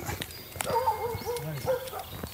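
A dog barks a few times at a distance in a rural village in the Monts d'Orb, with harmonic tonal calls mixed in and a faint murmur of outdoor activity around it.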